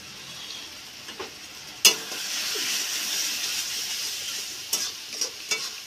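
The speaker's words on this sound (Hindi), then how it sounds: "इसको थोड़ा सा भून लेना है" Chowmein with salt fries in a hot pan under steady, close sizzling, while a spatula stirs it with a few sharp clicks and scrapes against the metal.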